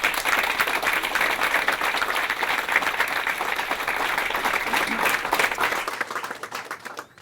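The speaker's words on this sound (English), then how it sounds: "So we want to give the workers a big round of applause and thank them for all that they've done" A press conference crowd gives the workers a sustained round of applause, dense clapping that holds steady for several seconds before tapering off at the end.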